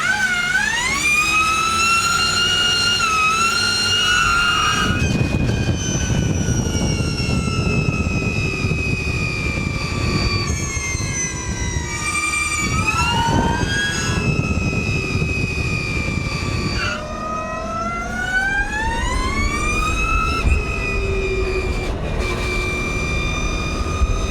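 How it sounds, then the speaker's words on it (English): A loud, whining electric car motor sound effect, laid over Ford GT500 track footage, glides up and down in pitch over a roaring rush of wind and road noise, shifting continuously throughout. "let's put over some electric car sounds over that"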